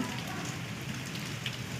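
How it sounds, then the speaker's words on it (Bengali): Steady, soft rain falls outdoors, a faint even patter with no clear individual drops and no voices. "যেহেতু আজ সকাল থেকে বৃষ্টি হচ্ছে,"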